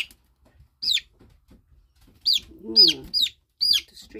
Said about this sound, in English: Distressed chicken.